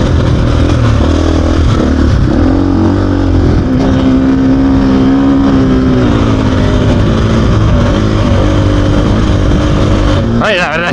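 A Gas Gas EC 450 F enduro motorcycle rides off-road, its engine droning loud and close with rising and falling revs throughout, while a voice talks over it at times.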